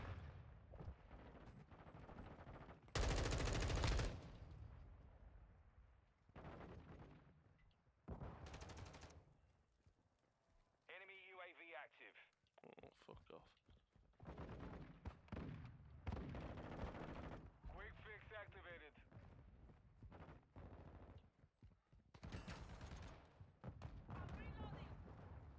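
Gunfire in Call of Duty: Modern Warfare 2 online play, with bursts of automatic fire and single loud shots scattered through the clip, one very loud burst early on, mixed under frequent excited talking.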